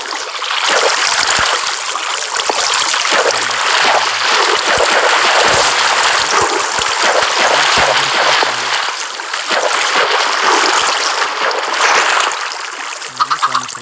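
Minecraft water flowing continuously: a steady, close, bubbling rush like a stream, loud throughout with only slight dips, ending in a few brief taps.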